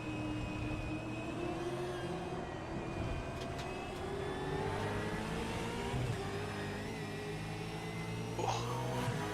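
Close side-by-side V8 race cars in a sim racing game at Road Atlanta, steady layered engine drones holding and shifting pitch as the cars run together, loud and continuous with no pauses.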